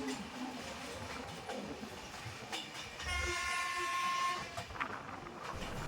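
A train runs along the Vizag to Araku line in monsoon season, a steady rolling rumble throughout with a sustained horn blast rising midway, loud and close, then fading back into the running noise.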